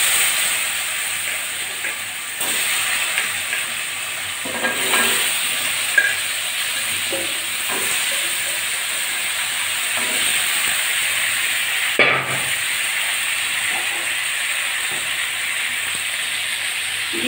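Cut, washed potatoes hit hot oil tempered with cumin seeds and bay leaves, giving a steady, close hissing sizzle with a few stirring knocks and scrapes.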